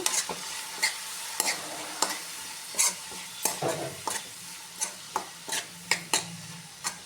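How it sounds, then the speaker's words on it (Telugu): Brinjal pieces coated with salt, turmeric and chili powder fry over a medium flame in a pan, with a steady soft sizzle broken by repeated sharp scrapes and taps as they are stirred every second or so. "ఇప్పుడు మీడియం ఫ్లేమ్లో పెట్టి దీన్ని ఫ్రై చేద్దాం ఇలా మధ్య మధ్యలో ఒకసారి కలుపుకుంటూ ఉండాలి అడగంటకుండా"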